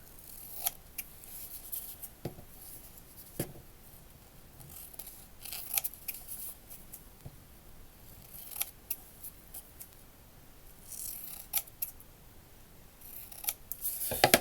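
Scissors snipping through a photo negative film strip for paper-craft ephemera, crisp cuts spaced through the clip at close range, quiet and alone with no talk.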